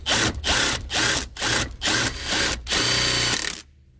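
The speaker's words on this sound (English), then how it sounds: "now that we have our pilot hole drilled" Power drill boring a small pilot hole for a trailer brake controller bracket on a 1995 Ford, several short whirring bursts separated by brief pauses, close and fairly loud, ending in near silence.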